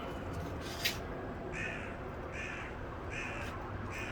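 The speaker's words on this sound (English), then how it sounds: "Seagulls start making a bit of a racket." Gulls call outdoors over the river in Vauxhall, South London, a few short repeated cries at moderate distance over steady background noise.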